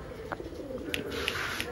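A female pigeon cooing, a low soft repeated coo heard close by with a few brief higher chirps and rustles, no speech.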